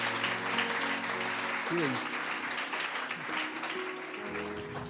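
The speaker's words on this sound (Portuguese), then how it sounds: "Damos um aplauso para Jesus, para a Beatriz" A church congregation applauds loudly and steadily for a young girl being welcomed forward, the dense clapping of many hands filling the whole stretch with a few voices mixed in.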